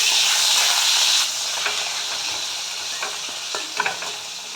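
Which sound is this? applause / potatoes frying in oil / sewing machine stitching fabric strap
potatoes frying in oil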